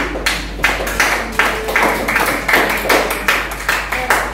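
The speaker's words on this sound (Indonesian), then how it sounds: "Sebelumnya kita beri tepuk tangan untuk diri kita sendiri." A classroom of students clapping for themselves at the end of a lesson, a series of loud, rhythmic group claps in repeated bursts of roughly half-second beats, close and steady over a low hum.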